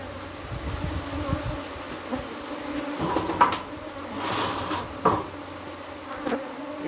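Honeybees buzz steadily around a hive colony, a dense close drone that swells and fades as insects pass near, with occasional knocks from handling the hive and no talk.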